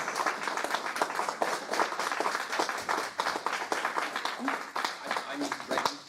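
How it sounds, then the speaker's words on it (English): A crowd applauds the crew and volunteers at the BristolCon live fan convention, dense steady clapping filling the room throughout with bits of speech mixed in. "Can we do a round of applause for the crew and the volunteers"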